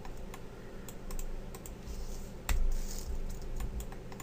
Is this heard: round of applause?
no